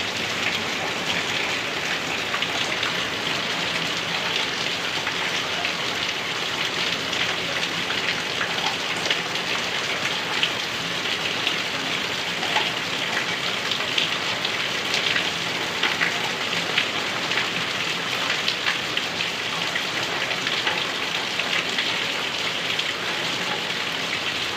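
Heavy night rain driven by wind in Kanpar pours down in a dense, unbroken hiss for the whole stretch, loud and steady with no voices.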